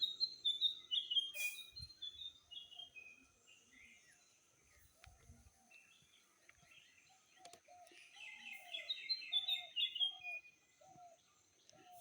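Birds sing and chirp at dawn, with bright high warbling phrases early on and again later, and a quieter series of short lower calls repeating through the middle, all outdoors with no talking.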